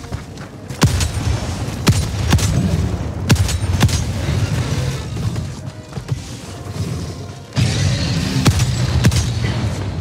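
An armor-piercing support rifle in Helldivers 2 fires repeated heavy, booming shots at a Bile Titan, sharp reports spaced a second or so apart over a constant rumble of battle noise and impacts.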